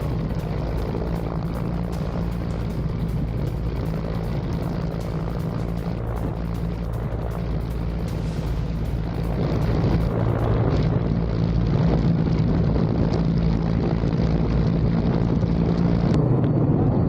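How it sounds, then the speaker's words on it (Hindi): A helicopter landing on a hijacked cargo ship at sea, its loud continuous rotor and engine roar with a rhythmic blade chop, close and steady throughout, swelling slightly in the second half. "तो देखिए किस तरह से हेलीकॉप्टर लैंड करता और उसके बाद ये हूती विद्रोही हाथों में हथियार लिए हुए उतरते इस शिप के ऊपर"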